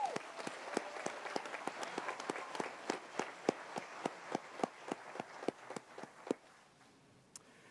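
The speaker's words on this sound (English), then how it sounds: "Let's give them a round of applause." A graduation ceremony crowd applauds, with sharp, evenly spaced claps standing out over quieter background clapping. It is fairly faint and distant in a large venue and fades out after about six seconds.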